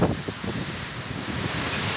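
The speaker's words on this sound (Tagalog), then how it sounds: "lakas pa rin ang hangin" Strong typhoon wind roars across a rooftop in La Union, Philippines, as a steady, loud, rushing blast buffeting the microphone with no break and no one speaking.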